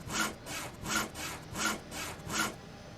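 Hand saw cutting through a tree trunk in the game GTA 5 RP, five steady back-and-forth rasping strokes of wood sawing in an even rhythm, close and clear with no talk.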